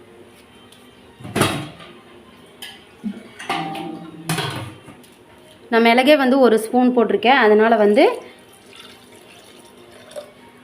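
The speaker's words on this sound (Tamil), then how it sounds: "இதுக்கு தேவையான அளவு தண்ணி ஊற்றிடலாம்." Water is poured into a pressure cooker over crushed garlic, pepper and cumin for a goat intestine stir-fry, heard as a few short splashing bursts between stretches of someone speaking.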